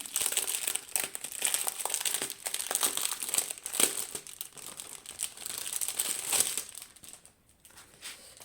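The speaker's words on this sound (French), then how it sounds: "au niveau des diamants, on va les ouvrir ceux-là. Ils sont en sachet ribambelle" Plastic sachets of diamond painting rhinestones are torn open with close, continuous crinkling and rustling that thins out near the end.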